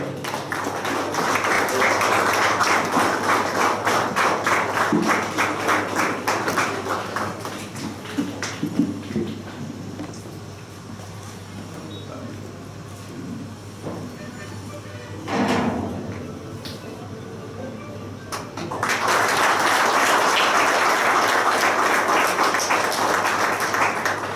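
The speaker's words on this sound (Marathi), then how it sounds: "सगळ्यांनी उभं राहून यांचा सत्कार करायचा आहे, टाळ्या वाजवायच्या आहेत" An audience stands to honour guests at a state ranking tournament in Nrusinhawadi, its dense clapping filling the opening seconds, dropping away to quieter room noise with a brief swell midway, then returning strongly near the end.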